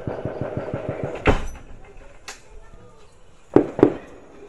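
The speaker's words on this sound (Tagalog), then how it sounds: "Madadangog ang sunod-sunod na putok nin Badil." Repeated gunshots in a residential barangay, caught on a cellphone: sharp, loud cracks at about 1.3, 2.3, 3.6 and 3.8 seconds over a rapid mechanical rattle and faint background noise, with no talking.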